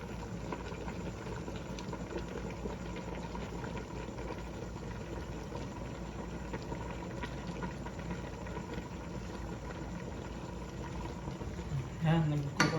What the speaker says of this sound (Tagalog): At kumulo na ng maigi ito mga kamaster